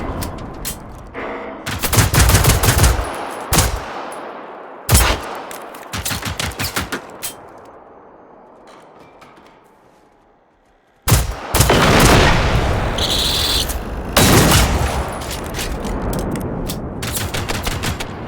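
Gunfire in the video game Generation Zero, loud rapid bursts of automatic fire and single cracking shots, then a fading tail into near silence before another heavy barrage of close shooting.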